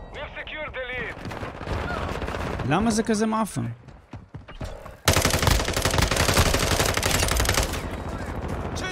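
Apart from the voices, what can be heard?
gunfire from Call of Duty video game (PS5)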